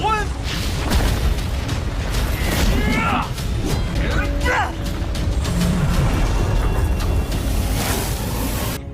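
Thunderous explosion effects crash through a martial-arts fantasy battle between Lin Dong and Wang Zhong, with dense booming rumble and swirling energy noise sustained loudly throughout, layered under narration.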